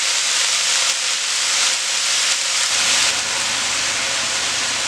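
Minced garlic, about two tablespoons, sizzles with bok choy in a low-carb stir-fry pan, a steady loud hiss with no talk.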